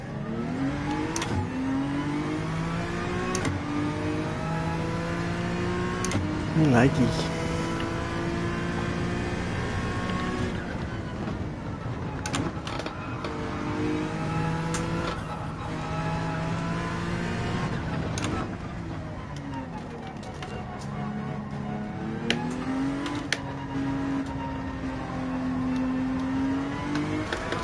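A car engine in Gran Turismo 7 revs and shifts through gears, its pitch climbing and dropping repeatedly over a long stretch, with a brief spoken remark partway through.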